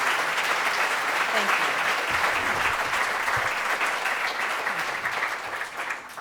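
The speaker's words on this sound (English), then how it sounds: "Let's give her a round of applause." A room full of people gives a warm round of applause for a poet at an onstage conversation, steady dense clapping that tapers toward the end while a voice briefly says a few words over it.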